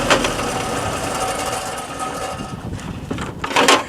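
A trailer-mounted cold-water sewer jetter runs with a loud, steady mechanical drone, then winds down as it shuts off, ending in a couple of sharp clunks.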